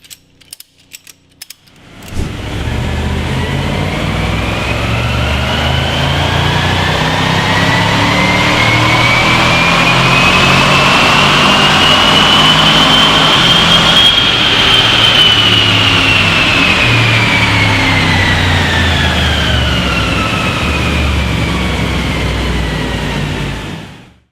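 A Jaguar XFR engine strapped down on a dyno roars through a sustained full-power run, pitch climbing steadily then easing off near the end, loud and continuous for over twenty seconds with no talk.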